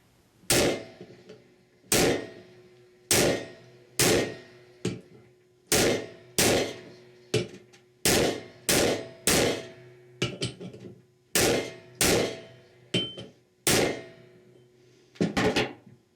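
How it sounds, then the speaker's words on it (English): A Truecraft socket is hammered to drive a bushing into a Ford E4OD/4R100 transmission part. About seventeen loud, sharp metallic strikes land at a fairly steady pace, with short ringing decays between them. "this Truecraft socket is perfect for driving it in the rest of the way."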